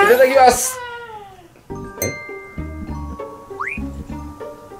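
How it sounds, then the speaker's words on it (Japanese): A cat gives a brief, rising meow in the middle of a sushi meal at home. It is short and moderately clear, and people talk around it with light clinks in the background. "猫の声でしたね。"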